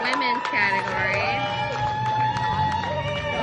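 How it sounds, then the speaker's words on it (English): A crowd at a women's sports competition, a wash of babble and raised voices with cheering swells throughout, loud and continuous, partly covered by a nearer voice speaking. "You can hear cheer, boo."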